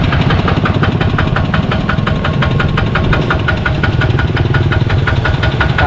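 A new vehicle's engine idles close and loud, with a fast, even ticking knock pulsing over a steady low rumble and no one talking.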